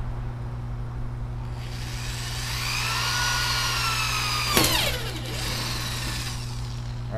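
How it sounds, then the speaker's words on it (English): A power drill bores a hole into the top of a fishtank viewing window build, the motor whining steadily at close range over a constant low hum, with a sharp crack near the end. "So I'm gonna drill a hole real quick."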